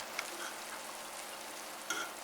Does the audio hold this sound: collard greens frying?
yes